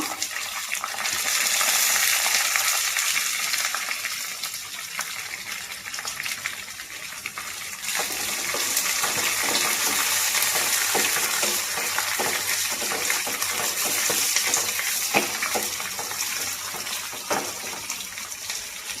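Spices crackle and hiss in hot oil with a constant gushing sizzle, swelling louder partway through and continuing steadily.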